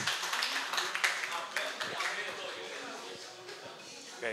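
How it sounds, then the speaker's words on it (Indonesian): Applause for performer Abel at a KPI comedy show, scattered claps from an audience spread through the room, fairly faint and steady, with a voice talking over them. "oke tepuk tangan untuk Abel"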